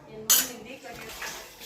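Steel utensils being washed in a home kitchen, a sharp metallic clatter of cutlery and pots at the start followed by softer scraping and clinks, close and alone.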